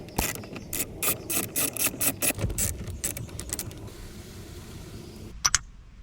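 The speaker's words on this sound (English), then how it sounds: "Pull out these bolts with a 10mm socket." A ratchet wrench with a 10mm socket backing out bolts inside a Lexus GX460 dash, giving rapid bursts of close, sharp clicking with pauses between them, then two louder knocks at the end.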